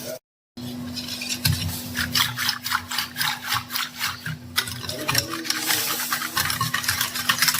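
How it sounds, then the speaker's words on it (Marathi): Besan, sugar, salt and turmeric are mixed together in a bowl for kadhi, giving a close, rhythmic rubbing and scraping that repeats in quick strokes and then turns to a looser, steadier stirring, with no talk. "आता हे सर्व एकत्र करून घेते."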